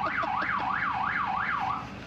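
A 1971 Ford LTD police car siren wails in rapid rising-and-falling sweeps, about five cycles, fairly distant and steady with no talking.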